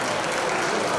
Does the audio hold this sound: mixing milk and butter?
no